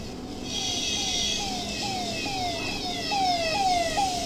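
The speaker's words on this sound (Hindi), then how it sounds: "ये देखो पीछे से कोई हॉर्न की आवाज आ रही है" An ambulance siren wails in traffic with a steady, repeating rising-and-falling tone at moderate distance, held over a continuous road rumble for the whole stretch.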